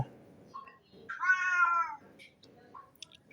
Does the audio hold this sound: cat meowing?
yes